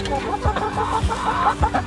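Hens clucking in wooden nesting boxes in a flock of nineteen chickens, a close run of repeated low clucks and murmurs with soft thumps at a steady rhythm.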